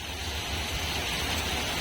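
Heavy monsoon rain pouring steadily over a village, a dense unbroken hiss that fills the whole moment with no pause, close and loud, with no one speaking.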